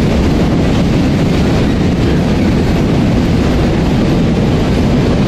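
A long cargo train rolls past near Rotterdam in the Netherlands, a loud, steady broadband rumble with rhythmic clickety-clack of wheels on rail joints and some wind buffeting, continuous throughout with no talk.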